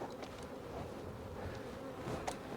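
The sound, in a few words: bees buzzing in a hive super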